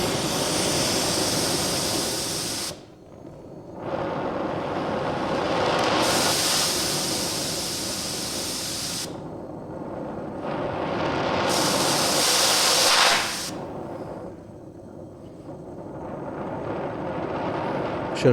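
A gas torch on a 100-foot hose that has sat unused for a while hisses in long steady bursts, cutting off abruptly several times between blasts, moderately close with no voices.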